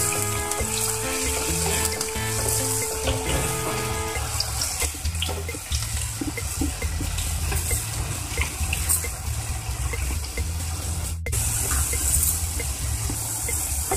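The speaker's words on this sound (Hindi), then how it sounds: "और हम इन आलुओं को अच्छे से लाइट ब्राउन होने तक फ्राई करेंगे।" Potato pieces sizzle steadily in hot oil in a pan, cooked for poha, a constant close frying hiss that carries on alone without talk.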